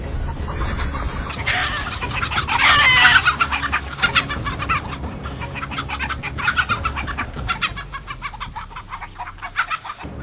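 A flock of chickens clucks busily inside a coop in Vermont, dense overlapping clucks and squawks running steadily the whole time at close range with no voices.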